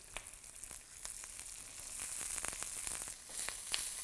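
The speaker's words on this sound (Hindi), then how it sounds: "प्याज लगे हाथ, गोभी डाल दो फ्राई होने के लिए" Cauliflower and onion frying in a pan for hotel-style chilli gobi, a steady hiss of sizzling oil with scattered crackles and pops that grow slightly louder, heard close with no talking.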